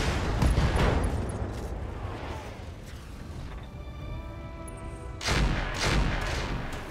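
Mech weapons firing in the video game BattleTech, heavy booming salvos and rumbling impacts that swell, ease into a tonal whine, then burst loudly again near the end.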